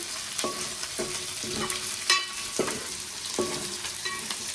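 Green chilies sizzling in hot oil, a continuous crackle with regular scraping strokes of a spoon roughly every half second.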